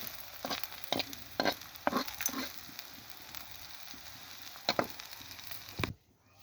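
Onions and garlic fry in oil with a quiet sizzle, punctuated by several sharp scraping strokes of a spatula against the pan, close and intermittent, before the sound cuts off near the end.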